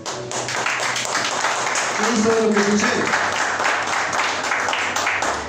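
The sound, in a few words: congregation applause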